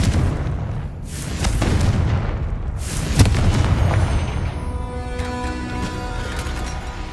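Fiery Confringo spell blast in the video game Hogwarts Legacy, a loud booming explosion with a sustained rumbling roar. Crackling debris and ringing tones trail off afterward, with no voices.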